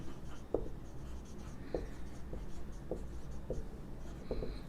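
A teacher writing chemical reactions on a board during a chemistry lesson, producing several soft, evenly spaced taps and strokes at close range over a low steady room hum, with no talking.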